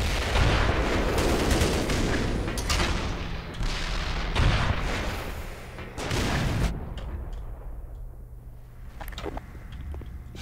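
Heavy gunfire and booming explosions from the shooter Black Mesa, with an RPG used against a tank. Loud, repeated blasts and shots fill the first part, then thin out into a few scattered later bangs.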